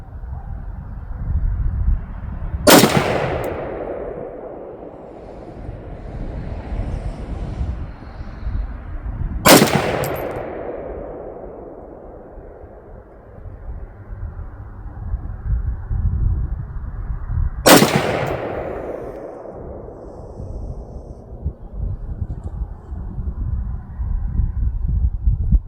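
Three loud, sharp rifle shots from a 1986 Romanian PM63 AKM built from a parts kit, fired outdoors several seconds apart, each with a rumbling echo trailing off over steady background noise.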